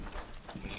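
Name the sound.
footsteps in Rainbow Six Siege video game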